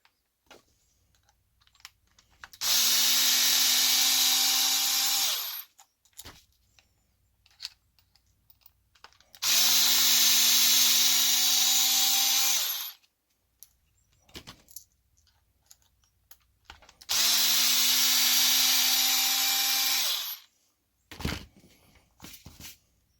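Power screwdriver backing out the four screws on a Traxxas MAXX front differential, in three loud sustained whirring bursts of about three seconds each, separated by quiet gaps with faint handling clicks.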